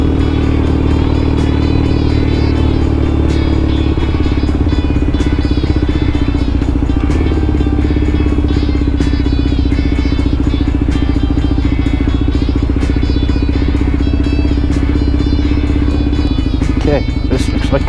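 A Triumph Bonneville motorcycle rides along a bumpy coastal road, its engine holding a steady, close, continuous drone with rattling clatter and jolts from the rough surface.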